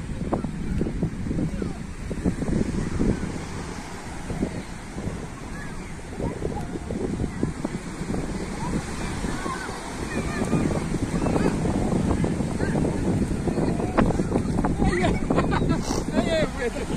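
Sea waves at a beach in Rabat, Morocco, heard as a continuous rushing wash of surf with wind buffeting the microphone, growing fuller toward the end, while voices talk faintly in the background.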